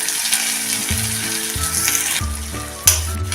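Finely chopped onions and curry leaves frying in hot oil with a pinch of asafoetida, giving a loud, continuous sizzle with low stirring thumps and scrapes and a sharp clack near the end.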